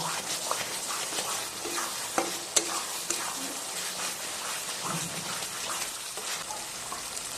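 Ginger paste, added after garlic paste, is sautéed in a hot pan for a restaurant-style chicken curry, giving a steady close sizzle with scraping stir strokes and a few sharp clicks, with no talking.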